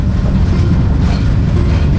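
A train rumbles steadily across the Karughat bridge in Chattogram district, heard from on board as a loud, constant low roar with faint wheel clatter.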